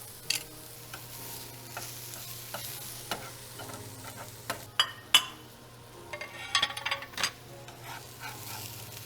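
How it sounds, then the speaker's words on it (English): Chopped meat frying in a pan with provolone cheese melting on top, a steady close sizzle with occasional stirring scrapes and utensil clicks, no talking. "now we're gonna add some provolone cheese to melt on top"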